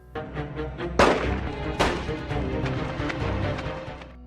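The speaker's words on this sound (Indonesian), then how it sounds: "tembakan terakhir yang dilesatkan Crook berhasil mengenai punggungnya" Two sharp gunshots ring out as a sound effect in a film recap of a revenge thriller, loud, close and reverberant, with a low rumbling bed underneath.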